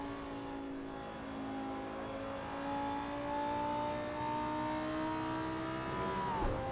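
A Lamborghini GT3 race car's engine in Assetto Corsa pulls hard at Monza, its steady rising drone climbing smoothly through the revs for several seconds, loud and continuous before a brief drop near the end.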